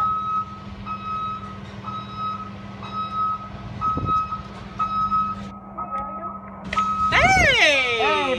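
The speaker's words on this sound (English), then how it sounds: "Oh, there's the bus coming in. Hear that bus?" An arriving bus sounds steady reversing beeps, about one per second, loud and close over a low engine drone, before a rising, sweeping whine takes over near the end.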